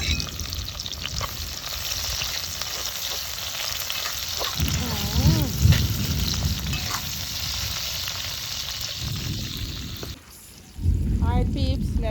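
Onion, sweet pepper, scallion and thyme fry in a pan outdoors, a steady close sizzle throughout with louder bursts as ingredients are stirred, and a brief dip near the end before the sizzling resumes.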